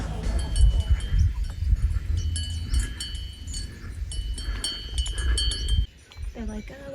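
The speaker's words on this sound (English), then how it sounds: "Got to see some sheep." Sheep bleat and cowbells clink on a mountain trail in the Mont Blanc area of France, high tones scattered over heavy wind rumble and footsteps, with faint voices nearby.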